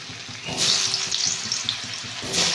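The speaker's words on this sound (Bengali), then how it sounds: "এই তেলটাতে এবার আলুগুলোকে ভেজে নেবো," Potatoes frying in oil for khichuri, a steady close sizzle with crackling bursts and light stirring clinks throughout, no talk.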